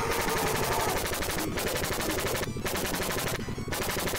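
Rapid auto-fire gunshots from the arcade shooter 雷轧斗 (Thunder-type shooter) run as a loud, steady, machine-gun-like stream, broken by a few short gaps.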